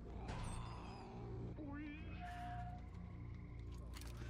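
A cat meows inside the video game Stalker Anomaly, a few short rising calls set against a continuous low game ambience and steady background hum, moderately loud.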